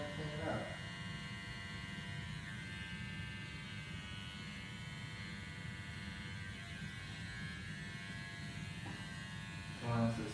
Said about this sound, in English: Utilizing just the edge of the trimmer, going in there.